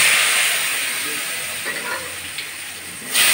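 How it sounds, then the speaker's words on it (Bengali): Potatoes seasoned with salt and turmeric fry in leftover fish-frying oil with bay leaf, giving a steady close hiss and sizzle with a few soft stirring sounds, a louder burst of hiss at the end. "আলুগুলো লাল লাল করে ভেজে নেব"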